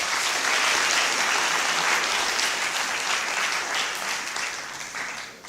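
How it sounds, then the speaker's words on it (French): Sustained applause from the audience at the RFC12 2017 closing ceremony, a dense, loud wash of clapping that holds steady and then fades slightly toward the end, with no voices over it. "On vous applaudit quand même pour ça."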